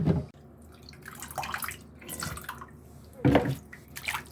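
Cross stitch fabric being washed with soap and water, with intermittent splashing and dripping in bursts at close range, quiet between, no talking.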